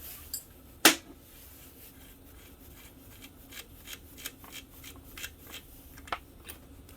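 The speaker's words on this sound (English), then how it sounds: "I'm just going to take the pliers, loosen up that top cap" Pliers loosening the top cap of a KD80 carburettor: one sharp, close metallic click, followed by a scattered series of faint small clicks and ticks. No one speaks.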